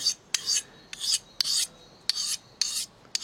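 Repeated rasping strokes of a knife blade drawn across a diamond sharpening stone, six or seven short bursts in a steady back-and-forth rhythm, close and clear.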